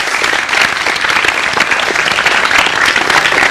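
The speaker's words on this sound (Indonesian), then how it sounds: "Terima kasih bagi aplaus sekalian untuk Anda semua." A TV talk show studio audience claps continuously, a loud, dense and steady wash of applause that fills the whole stretch without pause.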